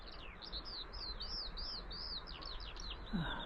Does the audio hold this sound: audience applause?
no